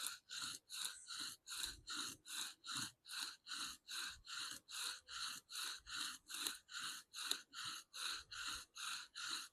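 A wooden bow drill spindle turns under pressure in a fire board, making rhythmic rasping strokes, about two per second, evenly paced and close, with no talking.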